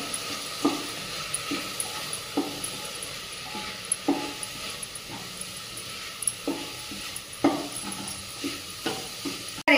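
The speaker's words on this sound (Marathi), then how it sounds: "अर्धा चमचा लाल तिखट, 1 चमचा गरम मसाला, अशा प्रकारचं साहित्य टाकून व्यवस्थित असं परतून घ्यायचंय." Spices with red chili powder and garam masala stirred in a pan for rice with fresh pigeon peas: a soft, steady sizzle with repeated scraping strokes of a spoon at irregular intervals, close and moderately quiet.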